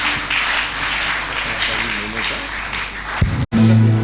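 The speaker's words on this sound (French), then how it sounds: "Les acclamations." A church congregation cheers and applauds a choir at a celebration service, a broad, steady wash of crowd noise with voices that cuts off abruptly just before the end.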